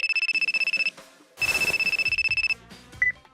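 A telephone rings in rapid electronic trilling bursts, a long burst, a pause, then another long burst, followed by a short final chirp, close and clear with no talk.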